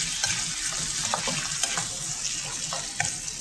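Tuna mixed with egg fries in a pan in a home kitchen in Saudi Arabia, a steady close-up sizzle broken by small pops and soft scraping stirs, with no talking.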